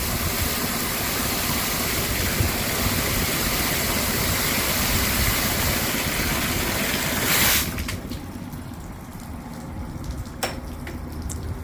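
A 2013 Tohatsu 8hp outboard idles in a water tank, a dense churning roar of engine and splashing water that drops sharply to a quieter hum with faint clicks near the end.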